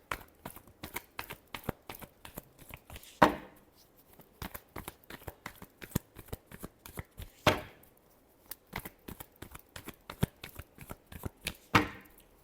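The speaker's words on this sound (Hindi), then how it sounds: "last shuffle" Tarot cards are shuffled by hand in a quiet room: steady crisp taps and flicks, broken by three louder riffling bursts spaced a few seconds apart, with no voice.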